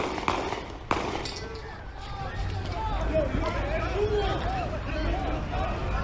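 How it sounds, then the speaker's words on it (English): Two sharp bangs crack out near the start, followed by excited crowd chatter and shouting voices. "We got gunshots."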